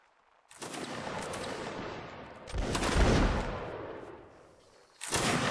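Musket volleys in a Napoleonic Wars line battle: loud, crackling massed fire rolling on for seconds, a heavier swell midway, then another volley bursting in at the end.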